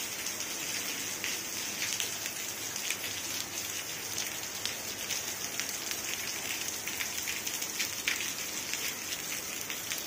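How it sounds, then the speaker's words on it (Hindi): Heavy rain falling outdoors during the rainy season, a steady, dense hiss of drops pattering on surfaces that continues unbroken and fairly loud throughout, with no voices. "बहुत ज़्यादा बारिश पड़ी हुई है।"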